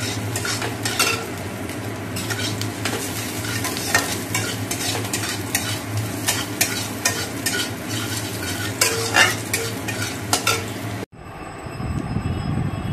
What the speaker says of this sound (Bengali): এদিকে পেঁয়াজটা ভেজে নিচ্ছি